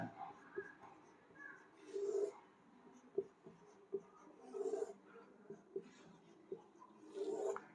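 A pen scratches and taps out a logic circuit diagram by hand in short bursts of strokes, while a voice keeps talking over the drawing.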